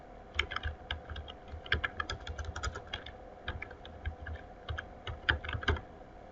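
A computer keyboard clicks in a brisk, uneven patter of close keystrokes as a file name is typed, over a low steady hum.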